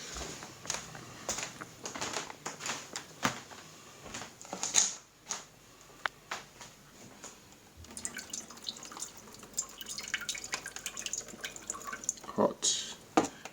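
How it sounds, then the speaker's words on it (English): Hot noodle water poured from a pot into a sink, a run of close splashing and dripping spatters that rises and thins over several seconds, with a voice briefly heard in between. "it is now time to pour my noodle water out"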